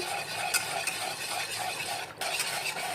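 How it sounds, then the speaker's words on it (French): A homemade yogurt mixture is stirred in a bowl, a steady soft swishing with faint repeated scrapes of the utensil, close up and without talk. "Vous remuez bien."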